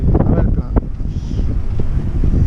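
Strong wind buffets the microphone in loud, continuous gusts, with faint boat and water sounds underneath, as boats return to a crowded anchorage at Lakka.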